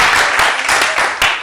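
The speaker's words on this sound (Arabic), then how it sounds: "تصفيق العلاوي تصفيق" Studio audience applause on an Iraqi TV show rises as a dense, loud wash of clapping, close and sustained for a brief burst with uneven surges.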